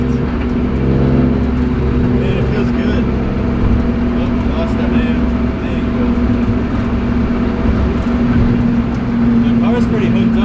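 A BMW E36 drifts with a loud, sustained engine drone and revving throughout, heard from inside the car while someone talks over it.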